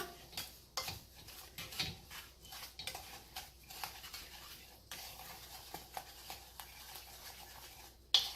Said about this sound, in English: you stir it a little bit